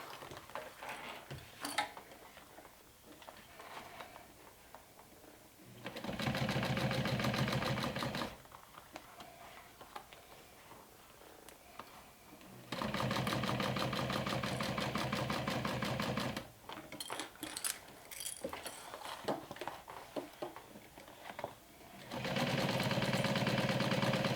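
Sewing machine top stitching a glow-in-the-dark backpack panel, three sustained loud runs of rapid stitching separated by quieter stretches of handling noise, close up and without speech.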